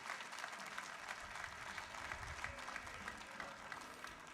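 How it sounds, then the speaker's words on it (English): A guitar festival crowd gives the sound and stage crew a round of applause, steady and fairly faint, as if heard from some distance across the venue. "How about a nice round of applause for our sound and stage crew that's working here today."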